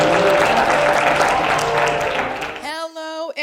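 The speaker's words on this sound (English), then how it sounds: "Let's give her a big round of applause." Audience applause at a realtor business development event, dense clapping for a few seconds that cuts off abruptly into a voice speaking.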